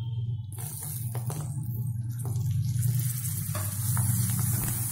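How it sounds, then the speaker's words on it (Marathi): Tomatoes go into a sautéed masala for a dal and aubergine dish, bringing a steady moderate sizzle with soft scraping and stirring sounds close by, no talking. "आता आपण यामध्ये टोमॅटो घालून घेऊया"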